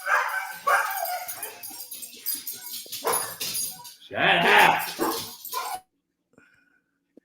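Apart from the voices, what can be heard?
dogs barking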